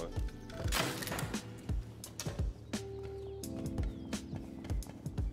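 Horse hooves clip-clop steadily in the survival game Rust, a brisk repeated rhythm of knocking footfalls at moderate distance, mixed with game ambience and a brief tonal hum.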